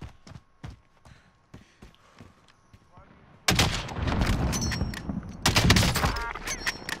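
Gunshots in the video game Call of Duty: Modern Warfare: a run of sharp single cracks spaced out over quiet, then a sudden loud, dense barrage of rapid fire and blasts.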